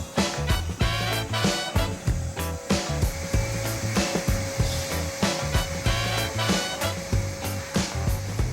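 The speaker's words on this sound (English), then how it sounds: "Feels a bit weird to be hoovering outside, but it's definitely doing the trick." A vacuum cleaner hoovers outdoors on a farm renovation site in Portugal, its motor whine steady while sharp bumps and scraping knocks break in repeatedly, close and fairly loud with no talking.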